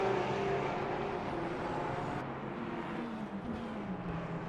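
GT3 race cars lapping the Bahrain circuit in the sim racing game Le Mans Ultimate, a steady loud engine drone with shifting pitch as the cars run close together, continuous throughout.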